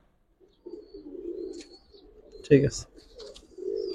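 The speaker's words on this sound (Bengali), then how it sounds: "কালো ফেদারের কবুতর গুলো কুয়াশার জন্য অনেক ভালো" Black-feathered Giribaz pigeons coo softly nearby, low rolling calls recurring through the moment, with a brief burst of wing or cage movement and someone speaking briefly.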